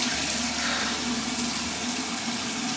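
Water running steadily from a tap or shower while someone rinses sugar off their body, a loud continuous hiss that does not change and has no talk over it.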